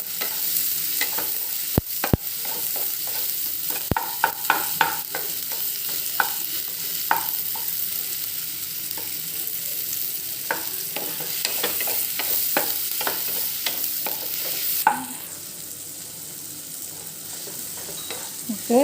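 Tomatoes and sauce sauté in a pan for chilli chapathi, a constant close sizzle with frequent stirring scrapes and spatula clacks, the hiss easing near the end.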